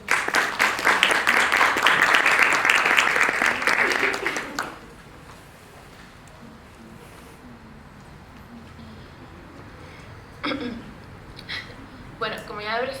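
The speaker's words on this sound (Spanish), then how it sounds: "Un cálido aplauso, por favor." Audience applause at a seminar panel on gender equity and rights: loud, fast clapping from a room full of people for about five seconds, then it cuts off to a hushed room before a single voice starts speaking.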